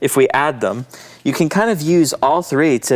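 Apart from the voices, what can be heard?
None of the usual background noises is heard.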